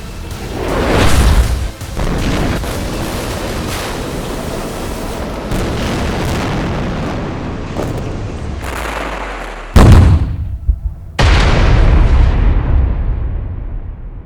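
Heavy explosions from bombing and shelling by fighter jets, tanks and artillery around Gaza: loud, dense rumbling blasts that roll continuously, with a sharp break near the end before another sustained roar.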